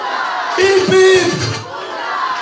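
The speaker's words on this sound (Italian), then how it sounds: "grande applauso" Wedding guests at a restaurant in a castle greet the bride and groom's entrance with a loud burst of crowd cheering and whooping that swells and then eases, with some voices mixed in.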